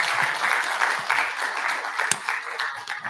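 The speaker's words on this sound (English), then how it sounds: "Let's give him a round of applause." Audience applause at a youth art festival celebration, a dense, steady patter of many hands clapping at moderate volume, continuing evenly without a break.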